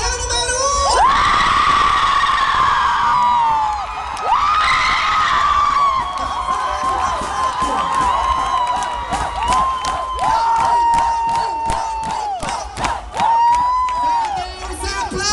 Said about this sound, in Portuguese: Cadê os aplausos pro casal número 1?